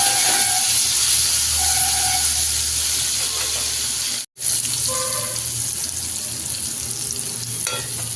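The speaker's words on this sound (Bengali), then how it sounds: "ভালো করে ভেজে নেব, পটলটাকে লাল লাল করে ভাজবো" Pointed gourd (potol) pieces fry steadily in a pan, a constant close sizzle and hiss with a brief cut midway, and no talking.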